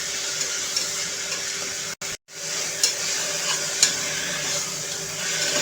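Fenugreek (methi) bhaji stirred in a frying pan makes a continuous close sizzle and rustle with occasional spatula scrapes, broken once by a short moment of silence.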